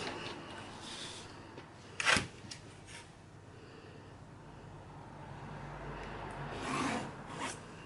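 Marker or pencil scratching along the centre of a 2-inch fabric strap in a short series of faint rasping strokes, with a sharper stroke near the start and another near the end.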